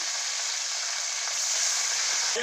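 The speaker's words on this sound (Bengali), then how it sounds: "তেলটা গরম হয়ে গেছে এবার আমি মাছগুলোকে ভেজে নেব" Turmeric-coated foli fish fry in hot oil, a loud, continuous sizzling hiss close to the pan that stays steady from start to finish, with no talk.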